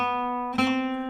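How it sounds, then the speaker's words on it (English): A single acoustic guitar downstroke strums across the strings during a warm-up exercise, sharp attack followed by a ringing sustained chord, quiet and close with no talking. "So the downstroke sounds like this."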